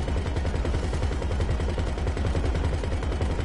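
Rapid gunfire rattles continuously in GTA Online during a Diamond Casino heist, a dense steady stream of shots with no pauses, loud and close throughout.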